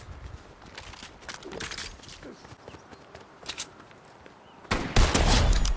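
Rapid automatic gunfire from a minigun in the Fortnite video game, with dense bursts of shots rattling through the scene and a loud, close sustained burst near the end.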